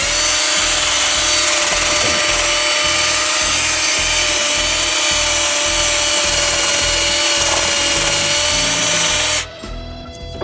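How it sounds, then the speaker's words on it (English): An electric drill spins a pipe fitting cleaning brush against the hub of a 2014 Subaru Outback during a rear wheel bearing job. It gives a loud, steady whine with a rhythmic scrubbing pulse, then stops abruptly near the end. "I've just taken a pipe fitting cleaning brush and cut the handle off and just put it on my drill here."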